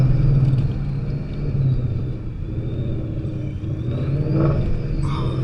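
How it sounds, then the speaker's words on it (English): A 1000hp Mustang's engine rumbles low and heavy while driving at night, the drone rising and falling through downshifts with a faint whir on top, no voices present. "Let's get some nice downshifts going on"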